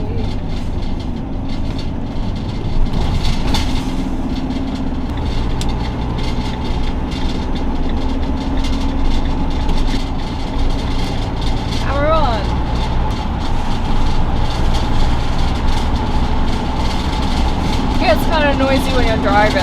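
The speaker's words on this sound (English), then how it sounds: "Kind of noisy when you're driving because stuff does move around." Camper van cruising on a UK motorway, a loud continuous road and engine roar with loose contents rattling and clattering in the back, occasional squeaks, steady throughout.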